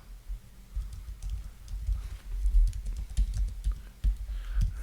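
Typing on a computer keyboard at a desk, a quick close run of light key clicks and taps with small pauses, heard alone.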